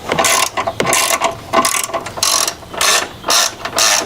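A ratchet wrench with a 13mm socket on an extension loosens a 2024 Mustang's subframe bolts, giving quick bursts of sharp metallic clicking, about six or seven strokes in a steady back-and-forth rhythm, close up and clear.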